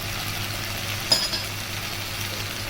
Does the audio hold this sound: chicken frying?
yes